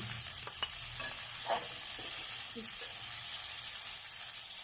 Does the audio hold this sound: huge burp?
no